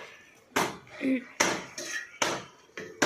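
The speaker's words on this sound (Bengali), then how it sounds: "এবার একটু নেড়ে চেড়ে দেওয়া হচ্ছে, ঢাকাটা বের খুলে" A cooking pot in a home kitchen is stirred and its lid lifted off, giving about five sharp, close metallic clanks and scrapes spaced roughly half a second apart, with quiet gaps between them.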